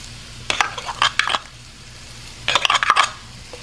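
Shallots stirred in a pot for a low-carb red curry noodle soup give two short bursts of clinking, scraping spoon-on-metal sounds separated by a quiet pause, close and fairly loud.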